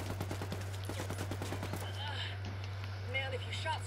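Heavy gunfire in the tactical shooter Ghost Recon Wildlands, a rapid burst of automatic shots cracking in quick succession, then scattered distant reports over a steady low hum, with game voice chatter mixed in.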